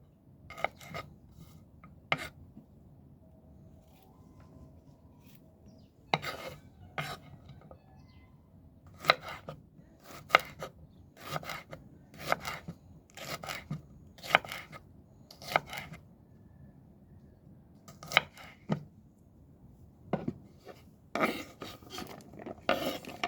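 Garlic being minced with a knife on a cutting board outdoors on a balcony for jalapeño pepper pickle, sharp rapid chopping taps in irregular bursts, close and fairly loud with quiet pauses between.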